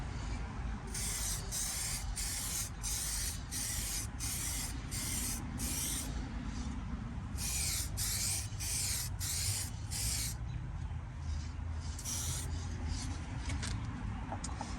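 Bursts of aerosol spray paint lay a tack coat over a welded rust patch on a 1999 Jeep Wrangler TJ, close hissing blasts in a rapid series of short pulses, with brief pauses between groups.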